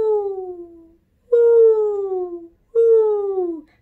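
A voice imitates owls with three long, falling hoots, each held for about a second, separated by short pauses.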